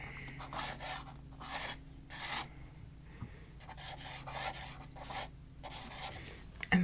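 Charcoal scrapes across paper during a figure drawing, with repeated rough rubbing strokes coming in bursts and short pauses, close and fairly soft.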